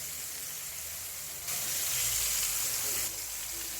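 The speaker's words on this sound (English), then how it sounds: "That's sizzling pretty good." Cubed steak frying in a pan over high heat, a loud continuous sizzle and hiss that swells briefly in the middle as more meat goes in.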